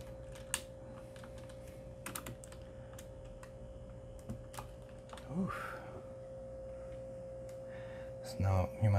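Keycaps being pried off and swapped on a mechanical keyboard, with scattered plastic clicks and taps, some quick clusters and a louder clatter near the end, over a steady electrical hum.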